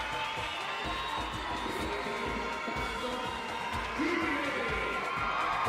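A crowd roars for a home Chilean athlete before an inline speed skating race, a steady loud wash of cheering and whoops that swells slightly toward the end.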